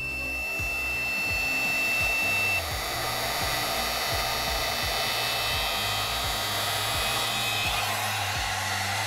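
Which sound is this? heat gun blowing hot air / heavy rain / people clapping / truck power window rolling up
heat gun blowing hot air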